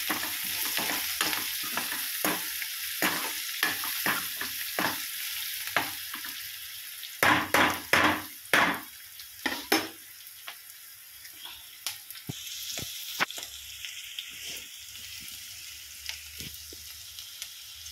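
Food sizzles and fries in a pan while a spoon stirs and scrapes it in steady repeated strokes, loud and close, with a burst of sharp scraping midway and quieter sizzling afterward.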